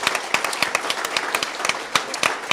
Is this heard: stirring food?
no